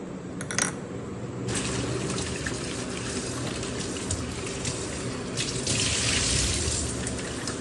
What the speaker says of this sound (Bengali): 3-4 বার আলুগুলো ধুতে হবে